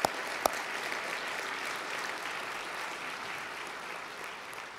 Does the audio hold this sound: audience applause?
yes